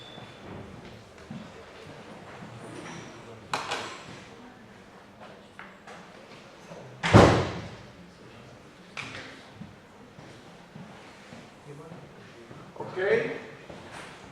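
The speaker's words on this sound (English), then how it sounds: "I closed the door, just a second." A door shuts during a class exercise session, making a single muffled thud midway through. Around it are quiet room noise, faint scattered knocks and soft voices.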